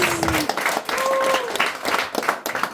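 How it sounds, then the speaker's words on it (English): Comedy club audience in a Copenhagen cellar applauds, a dense roar of clapping with a voice or whistle-like tones sliding over it, a few cheers mixed in. "can we please an applause for the first half?"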